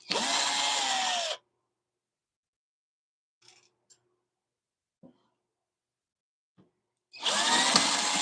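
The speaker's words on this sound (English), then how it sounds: "some of those screws get a little hot coming back out" A power drill backing long screws out of wood, heard as two loud, steady whirring runs close by, one at the start and one at the end, separated by near silence with a few faint clicks.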